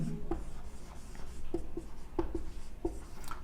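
Pen writing out a maths solution on paper or a board, a series of short scratchy strokes and taps spaced irregularly, quiet and close with no talking.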